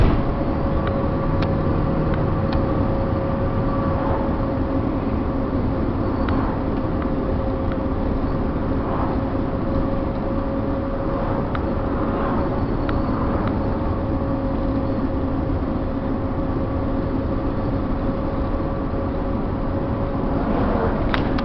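A Fleetwood Four Winds motorhome cruising at steady highway speed, a continuous loud engine drone and road rumble with a constant hum, no talk.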